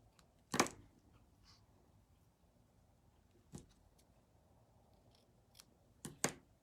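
Scissors trimming ribbon at an angle, with a few sharp, close snips spaced apart against a quiet background, one early and a quick pair near the end, no speech.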